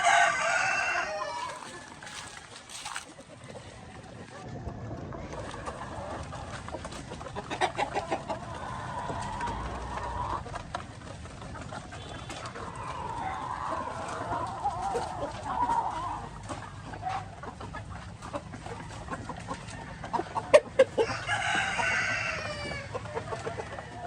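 Hens cluck steadily in a barnyard while roosters crow loudly, one near the start and another near the end, over a busy background of poultry.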